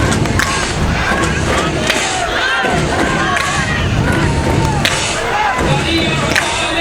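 A large crowd in the stands at a nighttime women's football game at Station Square roars and chatters steadily, a dense wash of voices and shouts with scattered whistles and cheers.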